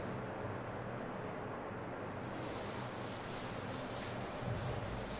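Steady, continuous rubbing as writing is wiped off a classroom board during a physics lesson, a dull scrubbing texture running for several seconds with no talk over it.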